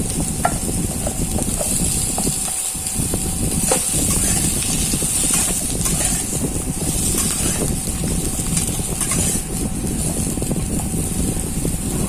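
Sliced pointed gourd sizzles steadily in hot oil in a pan, a constant close, loud hiss of frying with occasional stirring clicks and no speech.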